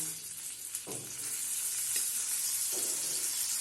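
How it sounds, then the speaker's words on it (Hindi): Paneer pieces hit a hot pan and sizzle steadily, with a few soft clatters as chunks drop in, a close and continuous frying hiss. "अब हम इसमें सारे पनीर के टुकड़े डाल देंगे।"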